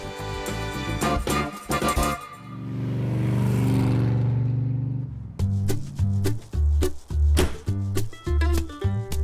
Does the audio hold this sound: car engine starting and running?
yes